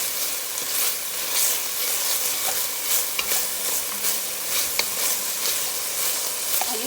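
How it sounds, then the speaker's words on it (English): Food sizzling in hot oil in a pan for a shrimp and grits dish, a steady bright hiss with occasional light spatula scrapes and ticks as it is stirred, close and even throughout without speech. "right now, I'm just gonna give this a little stir around."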